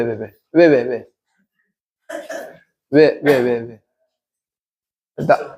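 A close, loud voice makes a series of short, separate throat-clearing and coughing bursts, about five of them, with silence between each.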